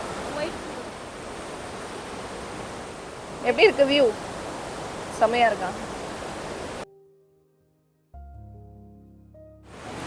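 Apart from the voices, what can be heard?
river flowing past on both sides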